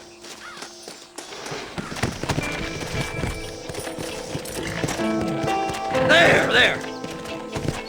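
Horses clip-clop in the Red Dead Redemption video game, with hoofbeats mixed into a busy game soundscape of music and ambience, and a voice calls out briefly.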